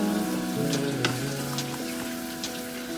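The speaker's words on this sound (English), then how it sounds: "all you gotta do is just stir it like this" A spoon stirs squirrel soup with fresh herbs in a pot, a soft wet swishing over a quiet simmer, with a few light clinks and no talk.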